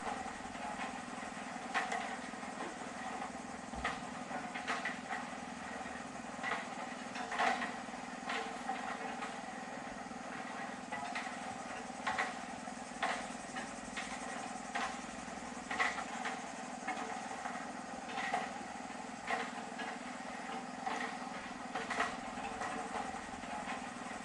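A Honda 35.8 cc four-stroke gasoline engine powering an LD41P rail cutting machine runs steadily at a moderate distance, a continuous mid-pitched hum with faint periodic clicks and knocks on a railway track site.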